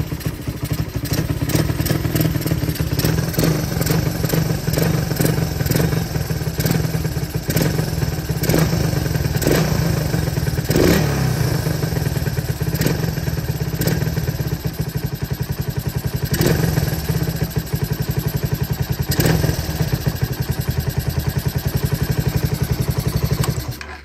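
A motorcycle engine fitted with a UMA Racing spark plug runs loud and close, holding a steady rumble through the whole stretch while the throttle is blipped and revved again and again, with clattering mechanical noise along the way.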